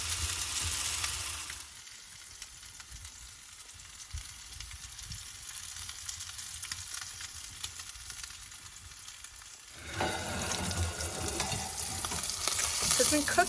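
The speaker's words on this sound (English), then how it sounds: "right back in the oven, sear it for a few minutes, flip it over" Pork chops sear in a hot Fontana wood-fired oven, a loud sizzle that drops to a softer, steady hiss for several seconds before swelling back up as the meat is handled.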